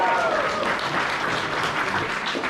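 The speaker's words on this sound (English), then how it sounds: "I appreciate the applause" An audience applauds at a convention opening ceremony, with steady, dense clapping filling the room for a few seconds at close range.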